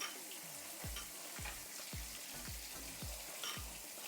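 Katla fish fries in a pan as one side turns golden, a steady soft sizzle broken by six evenly spaced low thumps that fall in pitch, roughly every half second.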